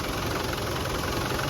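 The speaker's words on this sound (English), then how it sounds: "Very smooth running engine." A 1993 Land Rover Defender 110 with a 300Tdi diesel engine idles, a steady, even rumble close up with no revving and no voices.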